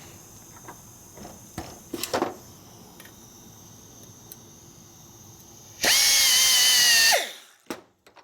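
A grinder whines loudly for about a second and a half against a 1972 Harley Ironhead Sportster clutch part, after quiet workshop handling noises and a few clanks before it, then spins down and stops.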